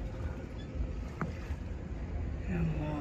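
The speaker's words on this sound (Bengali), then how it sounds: "এইখান থেকে যে কোনো একটা এই যে ট্রলার, মেশিন চালিত ট্রলারে উঠা তারপরে এই যে নদীতে" A motor-powered trawler on a river gives a steady low engine drone with water and wind rush throughout, recorded from on board.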